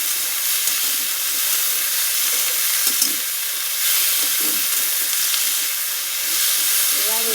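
Onion, green chili and tomato frying together in a wok, giving a constant hissing sizzle with a few faint soft clinks, close and even in level, no speech.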